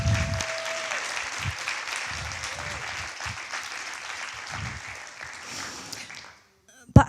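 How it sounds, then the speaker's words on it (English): Graduates at a 2021 graduation ceremony clap for themselves, a moderate round of applause that slowly fades out near the end, with faint talk and a few low thumps mixed in before a short noise at the close. "So give yourselves a round of applause."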